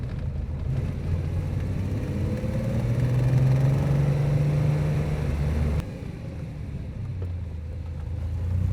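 A 1979 Porsche 911 SC engine turns over and settles into a steady idle, a low close rumble that swells slightly, then drops in level and holds a smooth idle, with no talking.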